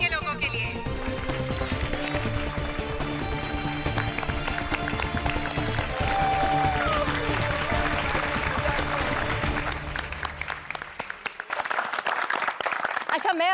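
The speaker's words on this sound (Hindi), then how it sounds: "एक बार जोरदार तालियां हो जाए गोकुलधाम सोसाइटी के लोगों के लिए" A crowd gives a long, sustained round of clapping for housing society residents, mixed with music and busy background sound, thinning out toward the end.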